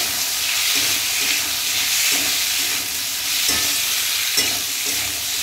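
Thinly cut potatoes and tomatoes fry in a pan with green chillies, giving a loud, steady close sizzle and hiss, with a few soft stirring knocks spaced through it.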